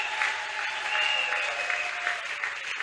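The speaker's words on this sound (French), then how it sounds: "Tu peux acclamer le Seigneur fortement." A church congregation claps steadily and loudly for the Lord, a dense continuous applause from many hands filling the room, without clear cheering voices.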